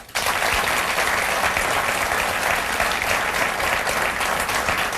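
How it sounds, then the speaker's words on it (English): A talk-show studio audience bursts into applause abruptly and keeps clapping at a steady, loud, dense level with no gaps, a full crowd roar of hands filling the whole stretch. "Give him a round of applause."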